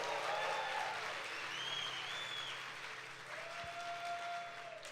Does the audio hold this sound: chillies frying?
no